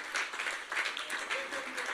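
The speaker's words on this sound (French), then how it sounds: "Donnons une acclamation" A congregation gives a brief round of applause at a church service, with moderate clapping and a voice speaking over it.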